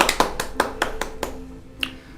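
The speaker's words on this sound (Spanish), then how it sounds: "Aplausos" A handful of sharp, separate hand claps ring out one after another, close and crisp, each with a short room decay, thinning out toward the end.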